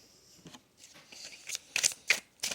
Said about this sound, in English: You see I'm shuffling.